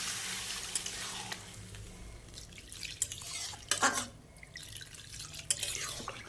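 Water being poured into a pan of cauliflower and egg curry, with drips and splashes over a soft sizzle and stirring, loudest in a brief burst midway.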